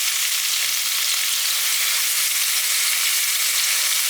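Chicken pieces coated in spices sizzle in hot oil for korma, a dense, even crackling hiss that stays steady and fairly close throughout, with no voices.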